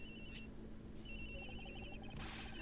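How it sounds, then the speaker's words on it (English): A murder victim's cell phone rings inside a locker in Ace Attorney Investigations, giving a repeating electronic ringtone with regular pulsed tones over quiet game background music, faint and muffled. "The ringing's coming from in here, sir."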